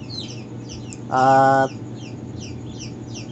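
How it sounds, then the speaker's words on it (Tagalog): Chickens cluck with chirping baby turkey poults in a crowded brood pen, soft repeated peeps running throughout, while a louder tonal call bursts out briefly near the middle; a single spoken word is heard. "May manok at saka pabo."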